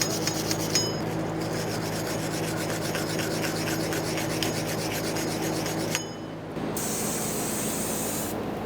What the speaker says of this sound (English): Now it's time to clean the mounting point on our axle hub area here.